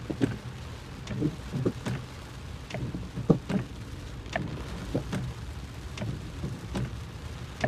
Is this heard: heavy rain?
yes